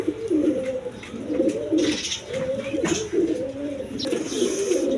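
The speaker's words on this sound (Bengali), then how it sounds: "দশমীদা এখানে এক পেয়ার রেশার কবুতর আছে" Pigeons of various breeds, including Rajgolla pigeons and a pair of racing pigeons, coo steadily in low rolling phrases at close range, loud and continuous throughout.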